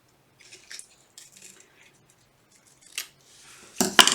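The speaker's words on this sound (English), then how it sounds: "I'm just going to carefully cut this out" Scissors snip paper while a Christmas decoration is cut out: a few soft, scattered cuts in a quiet room, ending in two louder, sharper snips close by.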